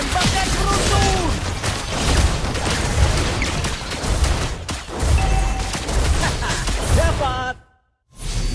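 Rapid burst of gunfire from a lightning-themed skill in a video game, a dense loud barrage of shots and whooshes running continuously before cutting briefly to silence and resuming.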